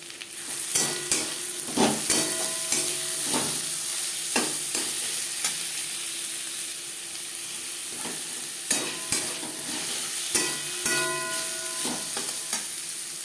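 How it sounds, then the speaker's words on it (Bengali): Carrot and capsicum fry in a pan for spicy semolina, with a steady sizzle under repeated scraping stirs that come in irregular bursts, close and fairly loud, with no voices. "গাজর ভেজে নেওয়ার পর দিয়ে দেবো ক্যাপসিকাম।"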